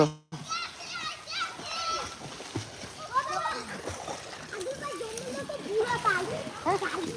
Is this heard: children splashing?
yes